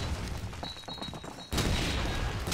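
Call of Duty 2 multiplayer on the Carentan map: dense game gunfire and explosions, with a rough barrage of shots and then a loud blast that leaves a sustained roar.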